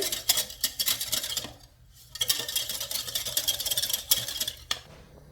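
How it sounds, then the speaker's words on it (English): A utensil scrapes and clinks against a pot while tapioca starch and water are stirred together, in quick rhythmic bursts with a short pause midway. "Just mix all of this well together."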